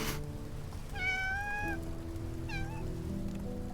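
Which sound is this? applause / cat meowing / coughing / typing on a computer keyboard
cat meowing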